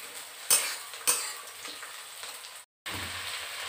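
Malabar spinach stir-fried in a pan with pumpkin, potato, lentil bori and taro, giving a steady broadband sizzle broken by two sharp spatula knocks and scraping stirs, then a brief cut before the frying resumes.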